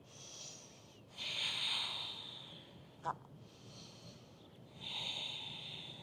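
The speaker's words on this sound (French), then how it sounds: "On prend 3 longues respirations." Slow, deep breaths in and out during a yoga flow in downward dog pose, each a long airy rush, with a short sharp sniff between them; close and fairly quiet.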